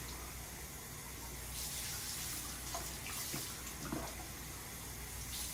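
Running tap water rinses film photography equipment, a steady faint gush with light splashing and a few clinks of objects under the stream.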